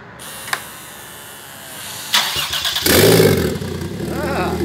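A Toyota 1JZ-GTE engine with ETCS-i electronic throttle cranks briefly with a whirring starter, then catches and settles into a loud, rough, close idle after a few quiet mechanical clicks.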